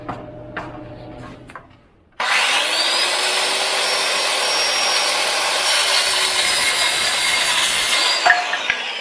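Power saw cutting wood pieces for rope makers in a woodshop, a loud steady whine starting after a short quiet pause and running continuously to the end, with a brief dip and rattle near the finish.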